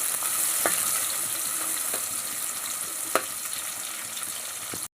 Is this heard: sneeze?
no